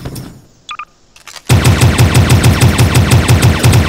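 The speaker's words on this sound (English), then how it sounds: "Let's use a plasma gun." In a video game, a plasma gun opens fire after a few quiet clicks and brief bleeps, unleashing a loud, rapid, evenly paced burst of shots that continues to the end.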